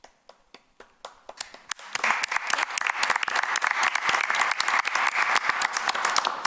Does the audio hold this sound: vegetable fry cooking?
no